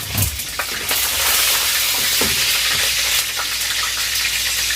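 Spoon stirring salt and cumin seeds in a frying pan of oil over medium heat, a steady close sizzle and hiss with occasional scraping, no talking.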